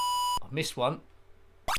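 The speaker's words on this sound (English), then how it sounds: "That's what that high-pitched beep did." A high-pitched electronic beep from the ZX Spectrum game Horace Goes Skiing sounds as a steady tone, followed by someone speaking briefly and then a second short beep at the end.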